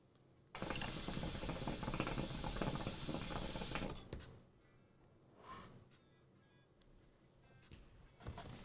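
Moze Epos Phunnel hookah bowl with coal on it sizzling and crackling loudly for about four seconds, then fading to faint rustles and small clicks.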